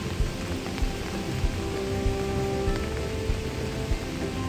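Heavy rain falling at Ramboda, a dense, even hiss of rain on surfaces with a few occasional heavier drips and knocks, steady and close, no voices.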